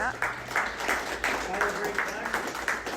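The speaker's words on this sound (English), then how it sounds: "you guys give yourself a round of applause" Attendees at a real estate investment group meeting applauding themselves, rhythmic clapping repeating in regular pulses alongside voices, moderately loud throughout.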